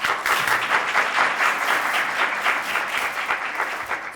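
An audience at a women in media and communication mentoring event breaks into a big round of applause, a dense, even wash of clapping that holds steady for several seconds.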